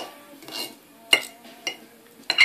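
A knife cuts boiled eggs into small pieces, giving several sharp clicks and scrapes against a bowl or board, with quieter handling noise in between.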